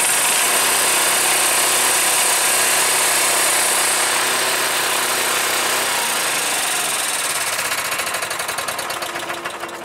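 A loud engine runs steadily with a droning hum, then its pitch and rhythm shift into a rapid, pulsing idle that continues to the end.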